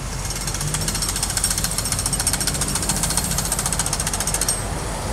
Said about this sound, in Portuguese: O som do martelete do consórcio Complexo Leblon